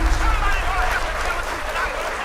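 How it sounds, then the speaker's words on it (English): A crowd applauds a burst of hip hop energy, with dense, continuous clapping that is steady and fairly loud throughout and a murmur of voices mixed in. "round of applause for this hip hop energy"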